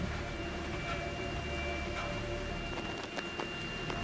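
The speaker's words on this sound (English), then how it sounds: "My HD microphone can't pick up anything after the very loud rain coming down on my ears" Heavy rain pours down steadily in the horror game Outlast 2, a dense, constant wash of noise with a few faint clicks and knocks scattered through it.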